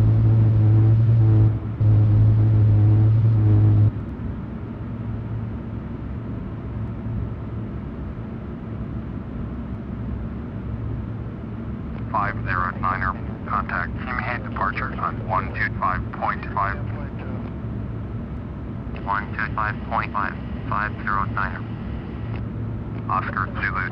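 Asiana A321 airliner in Flight Simulator X on the runway for takeoff, a steady loud engine roar and rumble throughout, with radio voices exchanging takeoff clearance over it in bursts.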